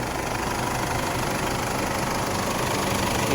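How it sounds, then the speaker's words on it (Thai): A 2007 Isuzu D-Max SLX 3.0 manual pickup's diesel engine idles steadily and close by, a continuous low rumble with a faint clattering knock, with no voices. "เสียงเครื่องเพาะเลยครับพี่ เครื่องดีไม่มีไอนะครับ"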